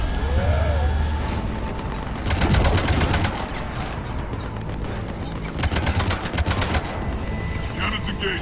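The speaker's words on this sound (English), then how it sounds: "Cannons engaged." Mounted cannons fire in Mass Effect 3 in rapid automatic bursts, loud and close, in two long volleys separated by a pause, over rumbling combat background.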